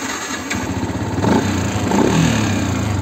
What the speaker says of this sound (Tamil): வண்டி வந்து ஸ்டார்ட் பண்ணி கூட காட்டுறேன் உங்களுக்கு